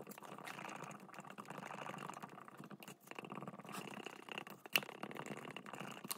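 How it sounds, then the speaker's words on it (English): Scraping the edges and bottom of a cup while mixing resin with hardener for a 1969 Glasspar Tacoma 14 transom replacement, a soft continuous scratchy stirring with small clicks, fairly quiet and close. "Hardener is in, we'll mix for just a few seconds, 30, 60 seconds, something like that. I'll make sure and scrape the edges,"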